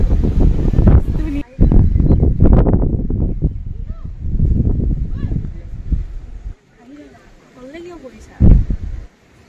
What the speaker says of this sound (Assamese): বতাহ যায়